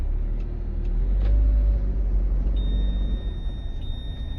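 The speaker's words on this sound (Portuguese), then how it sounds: "se eu ignorar essa luz e eu colocar o carro em movimento, ele vai habilitar um bip" Mitsubishi Pajero TR4 2005 moving with a door open: a steady low engine and road rumble, then a thin continuous electronic warning tone begins partway through and holds to the end, no voices.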